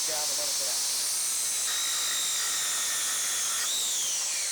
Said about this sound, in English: If there's a ridge right here in the center, I usually grind it down a little bit.